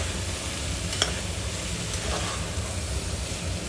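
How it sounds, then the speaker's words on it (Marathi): Chopped vegetables with jujube pieces and chickpeas frying in a pan for a Bhogi mixed-vegetable dish, giving a soft, steady sizzle with a faint hiss throughout and one brief clink near the start. "या सगळ्या भाज्या आपण आता याच्यामध्ये छान फ्राय करून घेणार आहोत."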